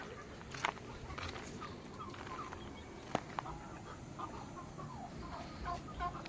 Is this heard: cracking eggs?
no